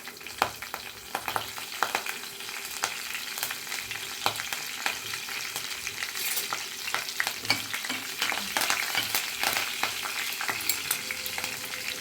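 Green chilli and curry leaves fry with cumin seeds in hot oil for sambar, giving a continuous close sizzle with crackling pops and occasional stirring scrapes, no talking.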